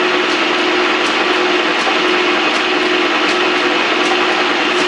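A Pratt and Whitney lathe spindle running in second gear at roughly 250 RPM, giving a steady, close mechanical whir with a constant hum and faint regular ticking throughout, with no voices.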